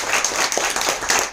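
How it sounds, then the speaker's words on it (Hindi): A short burst of clapping from a seminar audience, a quick scattered patter of hands lasting just over a second, fairly close and loud. "जोरदार तालियां हो जाए।"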